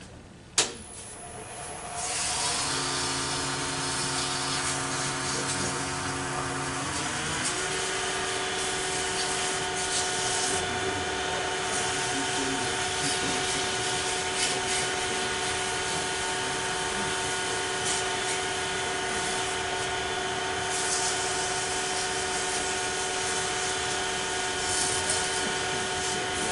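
A spinning lathe hums steadily while sandpaper rubs against turning wood, a continuous close, gritty hiss lasting throughout after a brief start-up.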